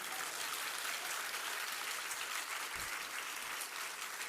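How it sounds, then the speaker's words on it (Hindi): Sustained applause from an audience at a Jain religious discourse by Vidyasagar Ji Maharaj, a steady dense wash of clapping that holds evenly throughout with no voices. "ताली बजानो तो अच्छे ढंग से तो बढ़ाओ"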